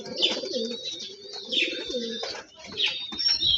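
Pigeons coo repeatedly in a loft where new squabs have been raised, with low throaty calls rising and falling over several seconds, a few higher chirps mixed in, and no talking.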